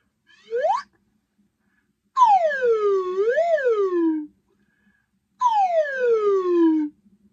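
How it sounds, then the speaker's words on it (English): A slide whistle blown in a few separate sweeps: a short rising squeal, then a long glide down with a quick wobble up and back, then another long falling swoop, clear and alone against near silence. "So I'm going to blow the slide whistle"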